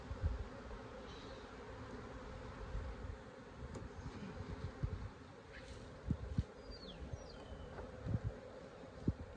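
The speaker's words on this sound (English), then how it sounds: "we still got bees in here" Honeybees buzz steadily inside a hive opened for the year's first inspection, a dense continuous hum with a few louder individual bees passing close, and occasional light knocks of frames being handled.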